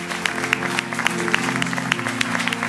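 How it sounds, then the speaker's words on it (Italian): Audience applause at a live tribute band concert, greeting a band member, with scattered sharp claps and cheers over sustained music tones, moderately loud throughout. "quindi applauso a Mike"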